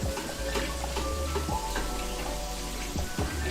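Coconut shrimp frying in a pan, giving a continuous close crackle and sizzle with scattered pops and spatters, no voices over it.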